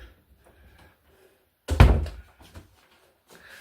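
A new internal door in a Spanish corner property shuts with a single solid thunk, close and fairly loud, amid an otherwise quiet room.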